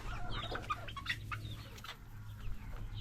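Egg-laying hens cluck steadily and close by in a farm coop, giving a busy, overlapping chorus of short clucks over a low constant hum.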